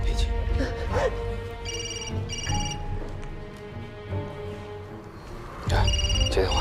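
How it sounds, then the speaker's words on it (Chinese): A telephone rings in short repeated electronic bursts, loud and near, in a tense crime drama scene where a kidnapper is expected to be calling; someone talks between and over the rings. "接电话"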